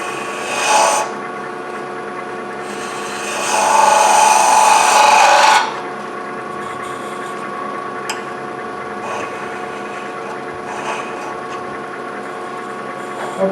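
A scraper works a small wooden box on a lathe, producing short rough rasping bursts of cutting over the steady hum of the spinning lathe, close up and without speech.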